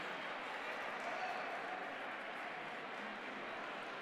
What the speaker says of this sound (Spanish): levantarlo así, un fuerte aplauso